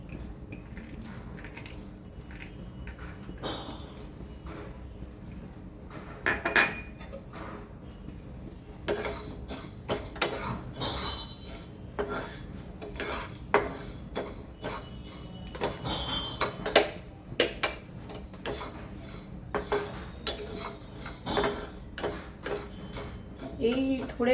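Mung dal lentils dry-frying in a dry wok, scattered light ticks, clinks and scraping as the grains and a utensil move against the metal, intermittent and fairly faint across the whole stretch.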